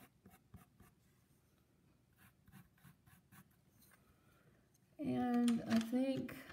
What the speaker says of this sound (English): Use my pencil.